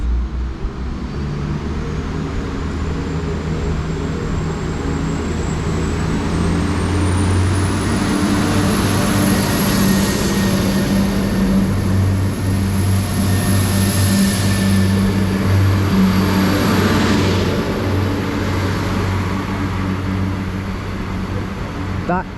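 Transport for Wales train 175110 departing Manchester Airport, its diesel engine roaring loud and steady, with a rising whine and deep rumble that persist throughout.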